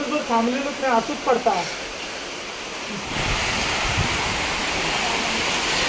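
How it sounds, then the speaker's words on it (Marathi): Voices speak over the first few seconds, then a loud, steady roar of wind-driven monsoon rain and storm gusts in Konkan fills the rest, close and unbroken. "मारणाचा पाऊस आणि मारणाचा वारा वावत नाही"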